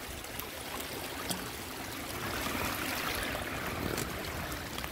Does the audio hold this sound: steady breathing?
no